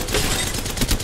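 Gunshots from the video game Apex Legends crackle in a quick, continuous rapid-fire burst, loud and up close, with no one speaking.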